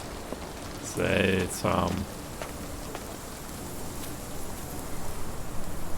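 Steady rain falls through a leaky building in the Sherlock Holmes The Awakened game, a soft even patter that continues throughout while someone briefly speaks.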